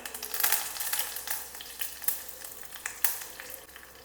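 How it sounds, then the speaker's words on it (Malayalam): Mustard seeds splutter with curry leaves in hot coconut oil for a sweet and sour mango curry, steady close sizzling broken by sharp popping crackles, with no talking. "കടുക് പൊട്ടി വരുന്നുണ്ട് ഇതിലേക്ക് കറിവേപ്പില ചേർത്ത് കൊടുക്കാം"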